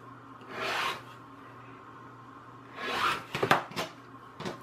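Scissors cutting paper into strips for decoupage, a raspy slicing stroke followed by a pause, then a few quicker snips and rustles close by.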